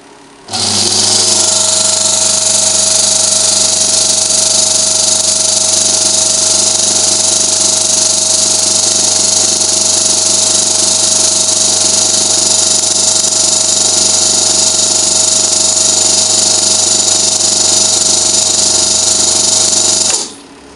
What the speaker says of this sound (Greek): Και τώρα απλά βγάζει αφρόγαλο.